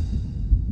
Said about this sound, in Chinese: 为什么会心跳加速？